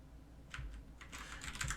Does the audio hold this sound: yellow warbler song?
no